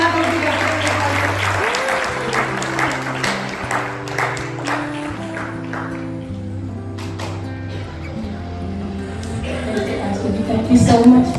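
An Easter church congregation in Yuba City applauds, dense sustained clapping filling the room, with an organ or keyboard holding chords underneath.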